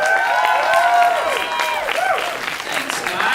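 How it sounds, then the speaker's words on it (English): A comedy theater audience applauding and cheering as a stand-up comedian takes the stage, a dense, sustained wash of clapping with whoops and shouts throughout. "Ladies and gentlemen, please put your hands together for Dale Ward!"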